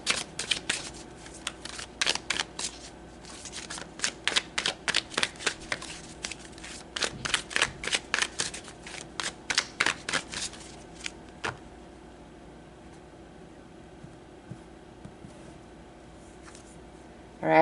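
Tarot cards are shuffled by hand in a quick run of crisp riffling bursts that stop abruptly, leaving near silence with a faint hum.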